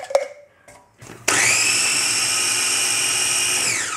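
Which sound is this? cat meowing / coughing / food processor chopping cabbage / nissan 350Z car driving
food processor chopping cabbage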